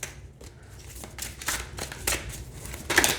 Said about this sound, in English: They shuffle fantastic.